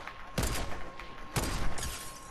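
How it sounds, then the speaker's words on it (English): Gunfire from Fortnite, with two broad bursts of rapid shots about a second apart, loud and close over a steady game backdrop with no talk. "I'm just shooting randomly, so I'm not going after anyone."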